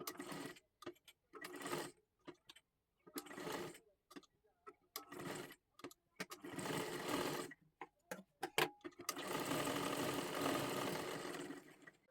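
Sewing machine stitching a lehenga dress made from a bordered saree, running in short start-stop bursts of whirring with pauses, then a longer continuous run at the end, fairly quiet and close.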